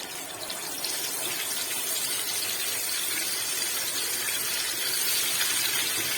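Chicken 65 pieces dropped into hot oil sizzle with a loud, dense, continuous hiss that swells slightly after the first second and holds steady, with no voices.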